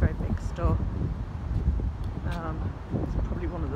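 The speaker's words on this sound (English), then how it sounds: "Very windy day, as you can probably hear" Strong wind on a very windy day buffets the microphone outdoors, producing loud uneven low rumbling gusts throughout, while people talk over it.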